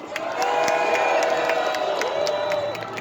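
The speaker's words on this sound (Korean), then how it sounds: "우선 탄핵 발의에 동참을 밝혀주신 의원들께 큰 박수 부탁드리겠습니다" A crowd at a Korean candlelight protest rally applauds and cheers loudly, with whoops and shouting voices over the clapping, sustained for a few seconds.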